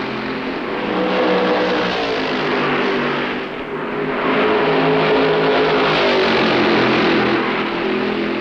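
Stock cars racing at Darlington in the 1965 Southern 500, a dense, continuous roar of several engines at full throttle that swells and dips slightly as the pack passes, loud and distorted, with no voices.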